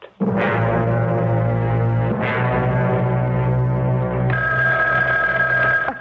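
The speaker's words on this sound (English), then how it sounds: "that telephone never seems to stop ringing" A telephone bell rings loudly and close, in long continuous bursts with a brief break between them, used as a sound effect in a radio mystery drama.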